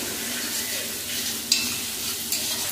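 Crab curry masala stir-fried in a pan until the oil separates gives a continuous close sizzle with a soft scrape of the spoon, plus a couple of brief clinks, without any speech.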